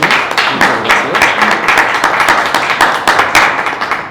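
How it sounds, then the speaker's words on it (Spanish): An audience at a legal seminar on bankruptcy-court reorganization claps loudly and continuously, a dense close round of applause with rapid irregular hand claps and no talking over it. "primero quisiera pues darles un aplauso porque ha estado fenómeno"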